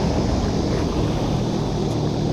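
A modded Sea-Doo Spark jet ski with an upgraded impeller roars at full throttle during an on-water drag race, a loud steady engine drone mixed with heavy wind rush on the microphone.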